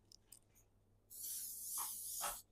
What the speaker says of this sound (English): I just gotta hairspray the shit out of it, so it actually